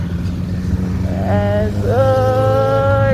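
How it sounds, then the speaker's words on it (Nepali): A superbike motorcycle passes nearby: a whining engine note climbs in pitch over a steady low traffic drone, then holds at a higher tone. "सुपर बाइक आयो है सुपर बाइक"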